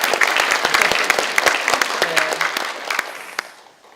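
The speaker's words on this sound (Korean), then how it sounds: "박수 한번 보내주세요." Crowd applause at a Democratic Party new-member academy lecture, a burst of brisk, loud clapping with sharp individual claps standing out, fading away over the final second.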